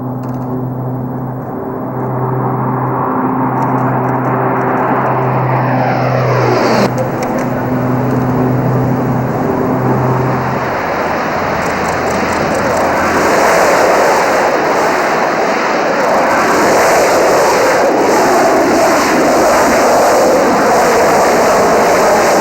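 The Fat Albert C-130 transport roars down the runway and lifts off with eight JATO solid-fuel rockets firing along its sides, giving a loud, sustained roaring blast whose pitch shifts as it passes, thick with engine and rocket noise and no talk.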